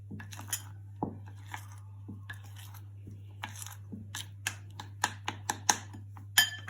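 A spoon mixing chopped chocolate and coconut in a bowl, giving a series of light scraping clicks and taps that grow sharper and quicker toward the end over a low steady hum, no voices.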